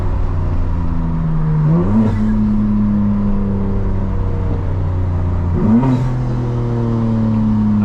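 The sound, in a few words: 2025 BMW M4 Competition xDrive accelerating under throttle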